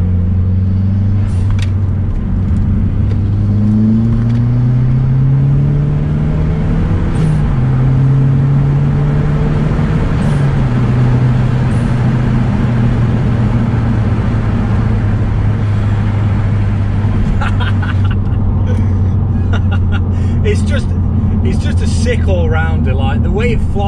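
A Mazda MPS with a dump valve and limited-slip differential accelerates hard around a roundabout, its engine note loud and close, droning and rising in pitch, then settling into a steady rumbling pull.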